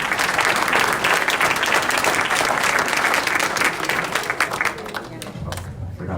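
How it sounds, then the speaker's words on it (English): Steady audience applause fills a debate hall at a primary congressional debate, dense and loud, thinning slightly near the end. "Let's give them a round of applause."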